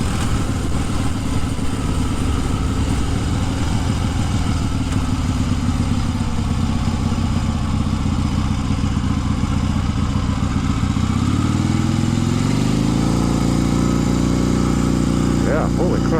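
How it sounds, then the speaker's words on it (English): A 1970 Harley-Davidson XLCH Sportster with a slipping clutch, its engine loud and close, revving high and holding a raw droning roar that shifts pitch upward near the end, with no speech over it. "It's like it's revving out."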